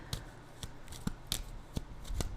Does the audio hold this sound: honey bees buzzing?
no